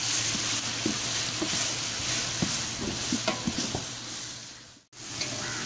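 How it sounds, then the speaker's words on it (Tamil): Onions with ginger garlic paste sautéing in a large pot for tomato dum biryani, a soft steady sizzle with scattered scraping stir strokes, close, dipping briefly near the end. "இப்போ பாருங்கள், இஞ்சி பூண்டு பேஸ்ட்டு போடுறாங்க."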